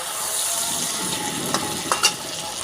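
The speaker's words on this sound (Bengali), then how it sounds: "এই গাঁটি কচুর মধ্যে সামান্য হলুদ আর নুন দিয়ে লাল লাল করে ভেজে নিচ্ছি।" Taro and potato pieces fry in a pan with a little salt and turmeric, a steady soft sizzle close by, broken by a few brief stirring clicks near the end.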